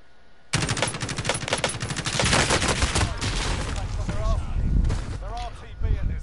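Call of Duty: Warzone gunfire: rapid automatic bursts crackle loudly and densely after a sudden start, continuing with heavy overlapping shots and some distant booms, with brief talk mixed in near the end.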